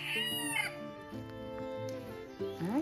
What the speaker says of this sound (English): I hear you, cock-a-doodle-doo.